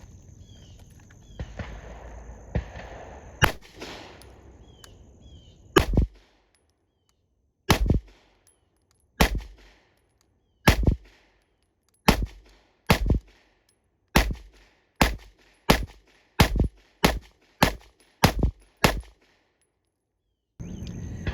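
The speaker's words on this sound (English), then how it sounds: "Let's head back to the range and watch Louisa shoot a quick warm-up shoot." Canik Mete MC9 pistol shots crack out at a shooting range, around fifteen sharp loud reports in a measured, quickening string separated by near silence, with some handling noise before the first shot.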